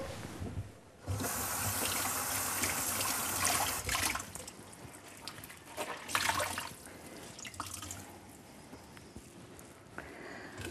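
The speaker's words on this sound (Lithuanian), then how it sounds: "Tiesiog sušlapinam šveistuką su vandeniu." Water running from a tap over a scouring pad as it is wetted for cleaning kitchen surfaces, a close gush that stops briefly and resumes, then trickles and drips.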